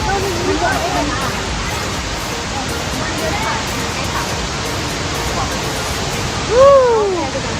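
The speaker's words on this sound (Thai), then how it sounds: "น้ำตกตาด" Kuang Si waterfall in Laos pours with a steady, broad roar of rushing water that fills the whole clip, with a brief voice rising near the end over the constant spray.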